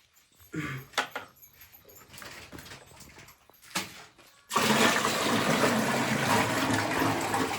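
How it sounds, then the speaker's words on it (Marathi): Water gushes loudly and steadily from a small bucket into a large bucket at a farm household in the morning, following a few quieter knocks and clatters. "ओतलं त्या बादलीत पाणी"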